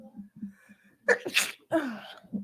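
A sharp, loud sneeze in two bursts, a quick gasping intake followed by the explosive release, after some quiet murmuring in the background.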